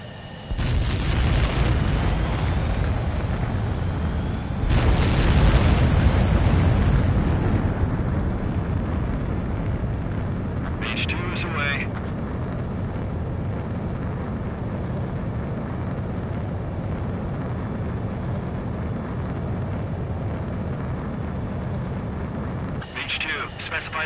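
Aircraft in a video game launch and take off, with a loud roaring engine blast building and peaking early before settling into a long, steady jet rumble, while voices speak over it.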